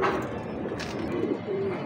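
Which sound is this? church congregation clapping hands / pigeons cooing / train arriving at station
pigeons cooing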